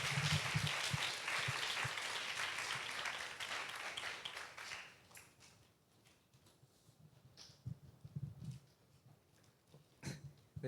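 Applause from a church youth worship congregation welcoming a new member forward, a dense burst of clapping that fades after about five seconds, leaving quieter room noise with scattered claps.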